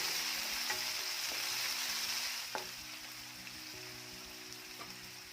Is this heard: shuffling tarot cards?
no